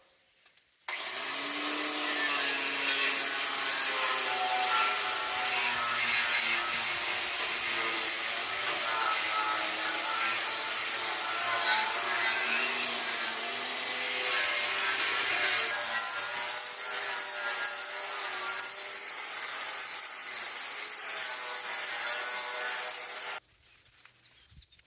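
An angle grinder with a 60-grit flap disc works a rusty truck frame, giving a loud, steady abrasive whine and rasp that runs continuously for over twenty seconds, then stops abruptly.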